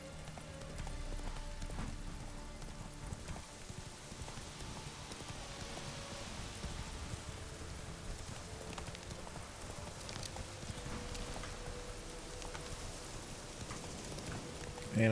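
Horse hooves clop steadily in the rain in The Witcher 3 video game, a faint continuous rhythmic gallop under soft rainfall.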